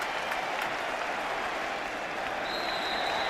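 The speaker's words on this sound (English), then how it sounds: "This crowd, this homecoming crowd, celebrating as the clock runs up on a minute to play." A homecoming football crowd at a Baylor–West Virginia game cheers and applauds in a dense, steady roar of clapping and shouting that fills the stadium without letup.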